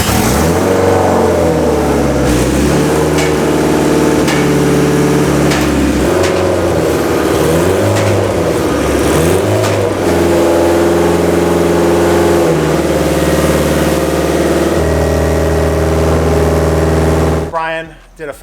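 A car engine revving hard during heat cycling in a shop, loud and continuous with rising and falling pitch sweeps, close to the source, then cutting off abruptly at the end.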